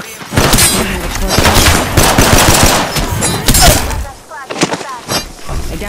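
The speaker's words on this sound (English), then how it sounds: "Getting shot at." Sustained heavy gunfire in the game Apex Legends, with dense overlapping shots and bursts filling the whole stretch, loud and close, with a few sharper cracks near the end.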